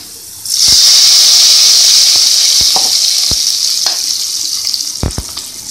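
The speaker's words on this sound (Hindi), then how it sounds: "इसके अंदर मैं ऐड करूँगी जीरा। इसके अंदर हम लगाएंगे बघार।" Cumin seeds hit hot oil for a chana dal tempering, erupting into a loud, sustained sizzling hiss close by, with a few sharp clinks of a spoon stirring as the crackle gradually eases.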